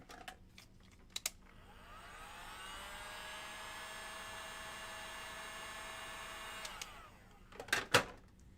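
Handheld hair dryer blowing on freshly painted coats of a DIY planter, a steady whining airflow for about four seconds that starts and stops cleanly, with faint taps and knocks around it and no talk.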